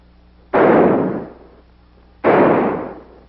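Two loud gunshots, spaced well apart, each a sharp blast that trails off into a rumbling echo.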